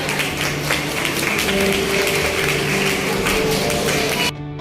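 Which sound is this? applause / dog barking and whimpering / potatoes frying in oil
applause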